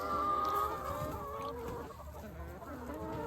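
Hens cluck steadily inside a new coop on pasture, a close, continuous chorus of soft clucks and murmurs from several birds, with a higher call standing out early on.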